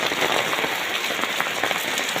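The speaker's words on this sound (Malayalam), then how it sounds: "സൂപ്പർ മഴയല്ലേ ഗുയ്സ്?" Heavy rain pours down in a dense, unbroken hiss, loud and steady throughout with no voices over it.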